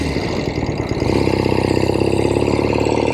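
A 1970 Royal Enfield Interceptor 750 Mk II motorcycle engine runs steadily up close, a loud, even rumble with fast regular firing pulses that settle into a smooth idle-like throb.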